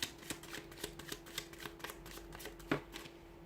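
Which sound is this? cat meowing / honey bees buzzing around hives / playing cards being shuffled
playing cards being shuffled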